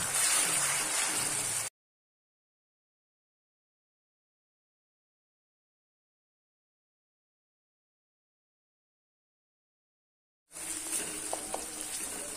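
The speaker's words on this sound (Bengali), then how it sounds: "এবার সব মশলাগুলো আমি ভালোভাবে মিক্সড করে নেব।" Spices and turmeric are stir-fried for mutton paya, giving a steady hiss and sizzle at the start and again near the end, with a long stretch of silence in between.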